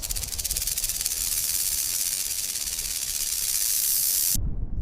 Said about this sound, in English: The rattling tail shakes, the sound echoing like a chilling warning.